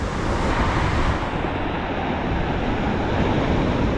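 Violent ocean surf washes up and drags back over a boulder beach, a continuous loud roaring wash with rumbling churn underneath, steady throughout with no voices.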